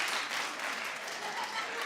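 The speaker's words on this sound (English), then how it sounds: "Clap if you're familiar with this in the audience." A studio audience at a daytime talk show claps together in a dense, continuous wash of applause that holds steady and loud throughout, with no talking over it.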